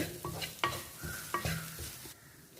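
Scrambled egg stuffing is mixed in a pan. A few distinct scraping strokes of a spoon come close up over a low, soft sizzle, and the sizzle fades at the end.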